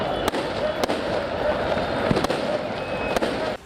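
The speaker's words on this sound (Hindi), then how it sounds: "जीत का डंका पीटने के लिए उन्होंने इतनी आतिशबाजी की कि रात के अंधेरे में आसमान जगमगा गया।" Fireworks burst at a nighttime street celebration in Lisbon, sharp loud cracks popping every second or so over a constant hiss of crowd and crackle, with a voice speaking over them.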